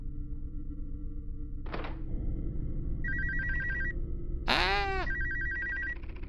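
A telephone rings in two short electronic bursts, each a rapid trilling ring, with a dull thunk before them and a brief sweeping chirp between, over a low indoor hum.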